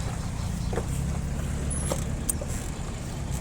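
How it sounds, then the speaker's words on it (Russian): A tractor engine runs with a steady, low, close rumble that stays even throughout, with no voices. "Сейчас будем запускать трактор, дабы дать послушать, как он работает."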